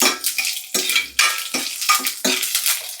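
A spatula stirs and scrapes lentils, garlic, coriander, curry leaves and dried red chillies frying in a pan, with about ten sharp, rhythmic strokes over a soft sizzle, close and loud.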